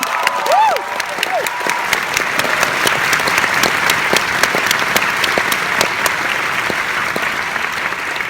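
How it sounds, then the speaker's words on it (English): An audience at a film festival Q&A applauds for Sufjan Stevens, with dense steady clapping and some crowd cheering throughout, and a few faint voices mixed in. "can we make an applause to Sufjan Stevens?"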